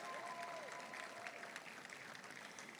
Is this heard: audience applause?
yes